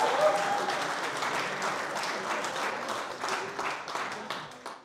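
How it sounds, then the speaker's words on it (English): An awards-gala audience gives a round of applause, a dense wash of clapping that holds steady for about five seconds and tapers slightly at the end. "Huge round of applause."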